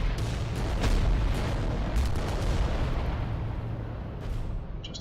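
Reaver titan volcano cannon fire in Adeptus Titanicus: Dominus, a series of heavy booming shots over a constant loud rumbling battle din, with several sharp cracks spaced through it.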